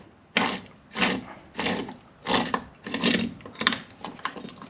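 An NSU veteran motorcycle two-speed pulley is turned by hand during disassembly, giving five or six separate grinding, ratcheting scrapes of metal, each lasting under a second, close and fairly loud.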